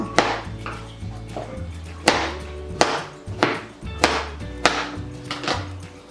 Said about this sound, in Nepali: यस्तै गरेर सबै लौका काट्दै जाउँ हामीहरु।